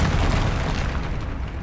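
An Expelliarmus spell is cast in Hogwarts Legacy, giving a loud, dense burst of rushing, booming noise that holds steady for under two seconds before tailing off, with no voices.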